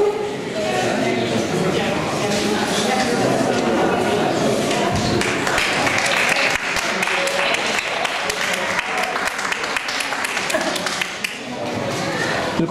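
Clapping for a winning senior at a Grandparents' Day event at a community culture centre in Wilkasy, a dense, crowded rattle of hands heard close, mixed with a voice speaking over it.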